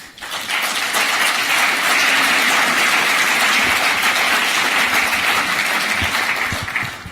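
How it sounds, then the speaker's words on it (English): Sustained applause from a conference audience at a closing session, steady clapping that fills the room for several seconds before tapering at the end. "The whole team deserves your applause, I think."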